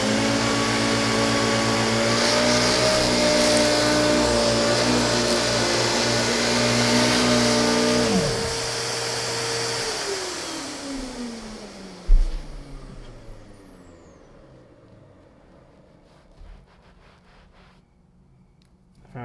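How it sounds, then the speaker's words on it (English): A Hoover Windtunnel S3641 canister vacuum runs loud and steady over carpet picking up cereal, flour, cat litter and pet hair, then its motor winds down with a falling whine and a thud, fading to quiet. "Let's see how the Hoover does."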